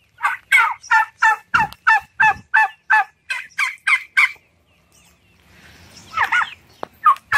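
Turkeys on a small farm gobbling in a fast run of about a dozen sharp, rattling calls, close and loud, followed by a short pause and then a few more gobbles with faint background noise.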